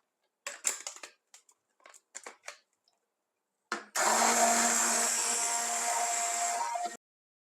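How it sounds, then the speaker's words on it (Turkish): A few brief clicks and rattles, then a blender roars steadily for about three seconds pureeing a soup of softened potatoes before cutting off abruptly. "Şimdi hemen blenderdan geçiriyoruz."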